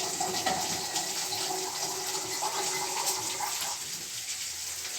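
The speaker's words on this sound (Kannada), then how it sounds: "ನಾನು 1 ಚಮಚಷ್ಟು ನೀರು ಹಾಕ್ಕೊತಾ ಇದ್ದೀನಿ" Water pours steadily into a pot of chicken biryani being cooked at home, a close rushing splash lasting several seconds that eases slightly toward the end.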